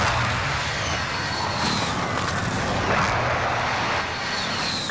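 An airstrike called in during Call of Duty Modern Warfare brings a dense, continuous roar of explosions and rumbling blasts, loud and sustained across five seconds, with a few sharper cracks rising from the barrage.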